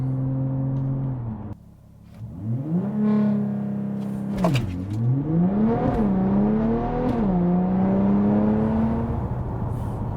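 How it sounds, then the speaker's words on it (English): An Audi A5 3.0 TDI diesel engine, tuned to 395 bhp, idles, cuts briefly, then revs hard on launch control and accelerates, climbing through several gear changes with a strong rising whine, loud and close. "Managed to get on launch control that time."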